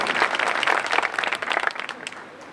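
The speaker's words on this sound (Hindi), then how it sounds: "एक बार जोरदार तालियों से महाराज श्री का अभिनंदन" A crowd at a bhajan evening in Rudrapur bursts into loud, dense applause honoring a spiritual leader, sustained clapping that gradually thins and fades toward the end.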